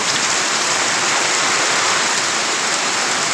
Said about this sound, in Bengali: বিশাল বৃষ্টি দেখতে পাচ্ছেন